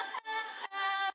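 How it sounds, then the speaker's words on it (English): Chopped acapella vocal snippets in a remix drop, two sustained tonal bursts cut off sharply, bright and processed with harmonic layers. "And so I did this by adding some kind of vocal chops."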